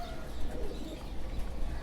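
Low, soft cooing of a pair of dark chocolate-coloured Amritsari pigeons repeating under a steady background hum, close by and fairly quiet.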